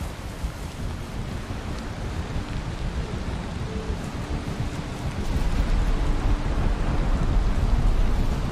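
Thunderstorm with rain in the video game Valheim: a dense, steady roar of rain with low rumbling that swells louder in the second half, heard without voices.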